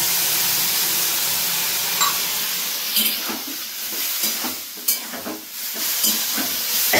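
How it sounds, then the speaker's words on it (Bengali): Vegetables frying in a pan in a village kitchen, a steady sizzling hiss running throughout with a few brief stirring scrapes and clinks, fairly close and without speech. "তো দেখো এখানে আমি সবজিটা কত সুন্দর করে ভেজেছি।"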